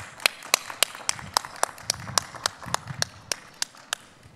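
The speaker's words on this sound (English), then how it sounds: "Let's give them all a big round of applause." A few people clap slowly and sharply, about two claps per second, at a quiet virtual graduation ceremony honoring PhD, master's and bachelor's graduates; the claps are distinct and isolated.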